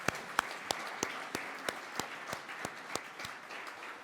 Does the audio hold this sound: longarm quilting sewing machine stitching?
no